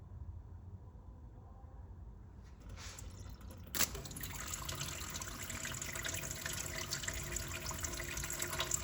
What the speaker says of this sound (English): This seems to give a fairly clean flow of water.